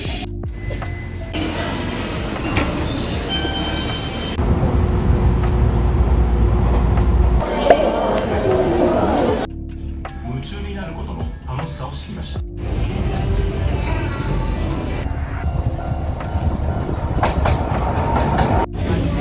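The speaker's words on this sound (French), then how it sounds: "on va prendre le métro de Tokyo." A Tokyo metro train rumbles along with steady clattering and loud low-end roar, brakes squealing briefly; people talk faintly in the background throughout.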